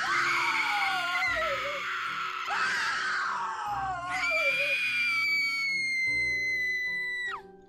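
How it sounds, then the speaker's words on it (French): Blood-curdling screams from inside an old factory: several long, loud, wavering shrieks and wails rise and fall one after another, ending in a sustained high scream that cuts off. "elles ont entendu des cris à glacer le sang venant de l'intérieur de l'ancienne usine."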